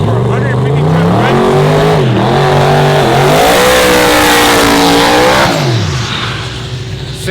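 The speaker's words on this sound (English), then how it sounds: "sick burnout" A truck does a burnout at a Houston Raceway Park truck event, its engine revving loud and close with rising and falling pitch and a roaring tire hiss, dropping off toward the end.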